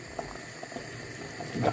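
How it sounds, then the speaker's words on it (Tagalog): Bulalo beef soup bubbles in a pot, a steady low simmer of small pops and gurgles that swells louder near the end, with no talking. "Ito na yung niluluto kong bulalo."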